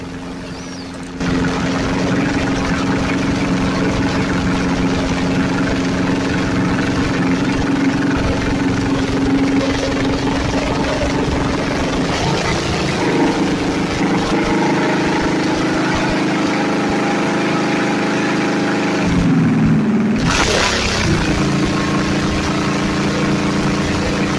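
A Chevy 350 V8 with headers drones loudly and continuously at idle with a rough, throaty tone, briefly dipping and changing near the end.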